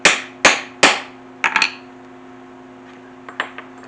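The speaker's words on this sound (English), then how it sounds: "And then set your rivet." A hammer setting a rivet through several folded layers of leather: three sharp ringing strikes, then a quick cluster of lighter taps and a few faint final knocks, close and alone.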